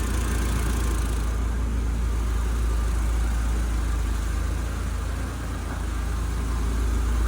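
A GAZ-69 with a ZMZ engine idles steadily nearby, a continuous low rumble that holds even, with a slight dip near the end.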